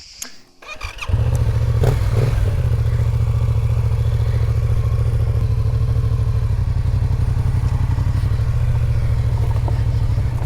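A Yamaha XSR 700 motorcycle ridden over hilly terrain on the Croatian island of Vis, its engine droning steadily and loudly after a brief rumbling start, with wind noise throughout.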